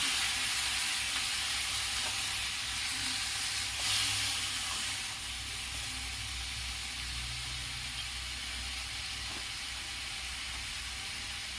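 Tomato chutney cooking over a high gas flame, a steady broad sizzling hiss with faint stirring scrapes, continuous and close, easing slightly in level partway through, no talk.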